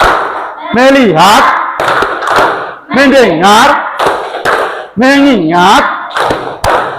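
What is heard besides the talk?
class doing the 'tepuk fokus' focus clapping routine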